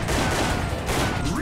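Rapid arcade-style gunfire from shooting enemies in Time Crisis, running as a dense continuous burst of shots layered with game noise and music throughout.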